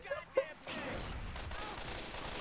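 Gunfire in the zombie shooter Left 4 Dead 2, with a couple of sharp shots followed by sustained rapid firing through the sewers, fairly loud and continuous, with brief voices at the start.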